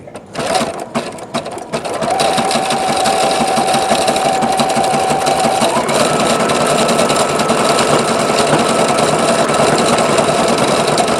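A sewing machine stitches with metallic thread, running loud and steady after a few brief stops and starts at the beginning, then holding an even mechanical whir to the end.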